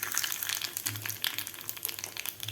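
Mustard seeds and urad dal sizzle in hot tempering oil, a steady close crackle with bright spitting pops.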